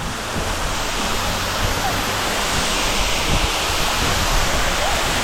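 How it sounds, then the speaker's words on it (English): A hidden waterfall deep in a rainforest pours down in a loud, steady roar of rushing water, heard up close with no break throughout. "I'm going under the waterfall."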